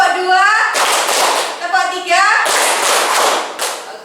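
A primary school class clapping hands on a teacher's counted cue, loud sharp bursts of group claps in short sets, alternating with a voice and children speaking in between.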